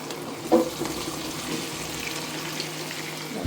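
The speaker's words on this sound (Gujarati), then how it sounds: "એમાં નાખી દઈએ આપણે આ બધા ઢોકળા." Muthiya dhokla pieces fry in a hot-oil tempering with curry leaves, making a soft, even sizzling hiss close by, with one brief clink near the start.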